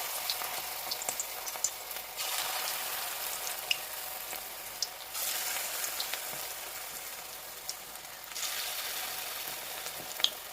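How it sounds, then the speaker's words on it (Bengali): Small chicken and cabbage pakoras fry in very hot oil, giving a steady close sizzle with faint pops and occasional surges as more pieces go in. "আমার তেলটা একদম গরম হয়ে গেছে। এবার আমি একটা একটা করে পকোড়া ছাড়ব।"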